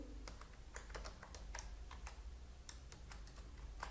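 C code being typed on a computer keyboard, quiet irregular clicks of keys tapping in quick clusters over a faint low hum, without any voices.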